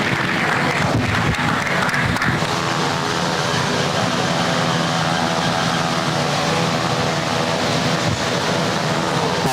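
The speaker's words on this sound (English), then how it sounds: "Give them a round of applause as they exit" Steady, dense applause from a crowd at a beef cattle showmanship event, filling the whole stretch at an even, loud level with a washy texture and a few voices mixed in.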